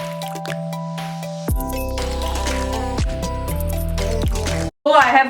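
Vegetables being washed in water in a kitchen, with drips, squishing and light clinks over a steady hum, and a brief burst of splashing near the end.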